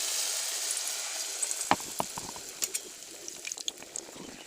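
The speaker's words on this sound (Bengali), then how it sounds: "তো এখন বেসনটাকে আলুর উপরে দিয়ে ঘুরিয়ে নিয়ে তেলের মধ্যে দিয়ে দেব" A batter-coated potato chop dropped into hot oil starts a soft crackling sizzle with scattered pops and spits, quiet and close, after a near-silent start.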